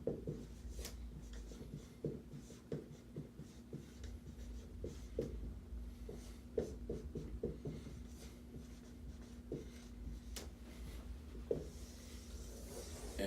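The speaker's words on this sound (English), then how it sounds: "I'm going to write that over here." Steady scratching strokes of a marker or chalk writing on a board during a chemistry lesson, quiet and close, running in short rhythmic bursts with no talking.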